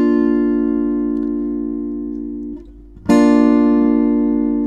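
Guitar chord strummed once and left ringing, decaying slowly before a brief pause and a second loud strum that rings on, close up with no talk.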